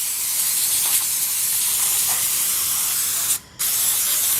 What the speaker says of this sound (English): You just want to spray them down really good.